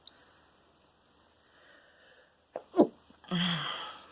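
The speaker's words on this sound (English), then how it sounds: "I'm going to sneeze" After a quiet pause, a quick sharp intake of breath leads into one loud, close sneeze that trails off with a short exhale.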